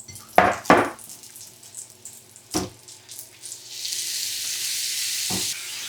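A venison and pork sausage mixture hits melted butter in a cast iron skillet: a few sharp clunks and scrapes, then a steady close hiss of frying that builds and holds, with no talking.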